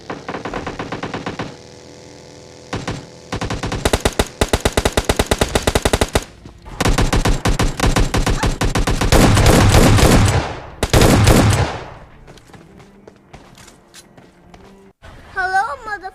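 Gunfire in the mobile battle game PUBG Mobile Lite: repeated bursts of rapid automatic fire in loud clusters separated by short pauses, then quieter footsteps, with someone talking over it at times.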